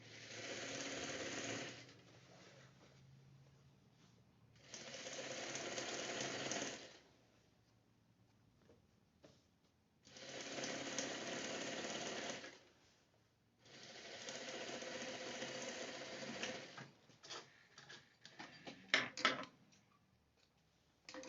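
A sewing machine stitches down a pant leg seam in four long bursts of steady, rapid whirring. The bursts are separated by short pauses, and fainter clicks and handling noises follow near the end.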